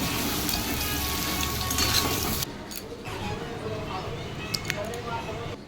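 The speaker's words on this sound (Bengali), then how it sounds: "সয়াবিনটাকে প্রথমে এরকম ভাবে কড়ার মধ্যে দিয়ে ভালো করে ভেজে নিতে হবে" Soybean chunks fry in oil in a kadai with a steady broadband sizzle that is loud for the first couple of seconds and then drops to a quieter crackle, with a few light clinks of a utensil against the pan.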